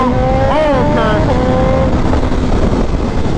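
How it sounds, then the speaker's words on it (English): A Suzuki Hayabusa's inline-four engine revs up with rising and falling tonal sweeps, loud and close, settling into a steady roar of riding and wind noise. "Yeah, that sounds good. The inline 4 sound."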